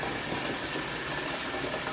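Cold tap water gushes steadily into a laundry rinse bucket, a constant dense hiss and rush without pauses, close and moderately loud.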